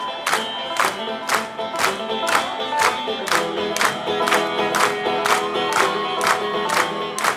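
A concert crowd claps in unison as percussion, about two steady sharp claps per second, loud and regular, with music tones sounding underneath.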